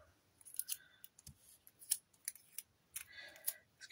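Scissors cut clear sticky tape over plastic while someone makes craft tags. Several crisp, close snips and rustles come in quick, irregular bursts.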